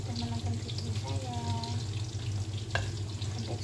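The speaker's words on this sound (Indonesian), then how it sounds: "Goreng apelnya." Apple pieces frying in oil in a home kitchen, a steady close sizzle running throughout, with some brief tonal clinks and a short knock near the end.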